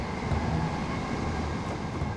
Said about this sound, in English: These Electrostars really do accelerate